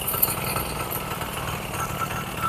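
A steady mechanical drone from an Indian Agro chain cultivator engine, running continuously and evenly at moderate loudness with no talk.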